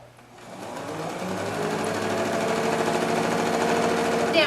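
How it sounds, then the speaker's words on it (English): A sewing machine runs steadily, stitching strips of quilt fabric together, with a continuous, close, even mechanical whir that speeds up after a quiet start and plays alone without talk. "And then we're going to sew these together."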